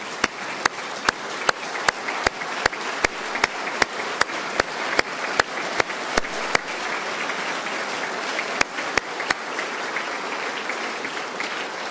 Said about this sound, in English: Please also stand so we can give you a round of applause.